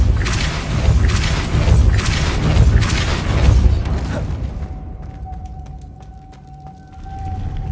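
In Hogwarts Legacy, a Depulso spell blasts out as a loud, rumbling whoosh that rolls through the first half. A quieter mechanical creak and ticking follows, then a low swell near the end.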